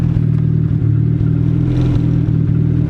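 A Mazda RX-7 rotary engine runs close by at a rough, slightly uneven idle, a loud steady low drone with rhythmic pulsing and faint mechanical clatter, and no one talks.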